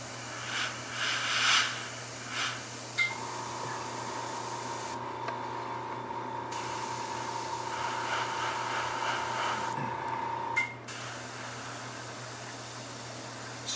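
A steady airbrush hiss runs continuously with a faint compressor hum beneath, briefly interrupted twice, after a few light handling taps at the start, while spraying paint near the wing root of a scale model.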